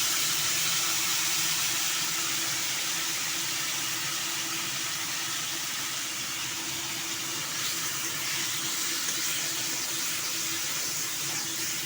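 Water poured into a spice paste of ginger, cumin and chilli frying in a pan, making a steady loud hiss and bubbling steam that runs unbroken throughout.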